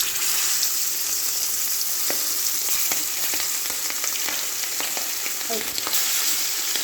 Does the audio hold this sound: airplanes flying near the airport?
no